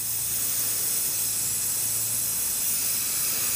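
Spray paint hisses in one continuous, loud, steady burst while a Nerf gun is prepared for hydro dipping with a swirl pattern.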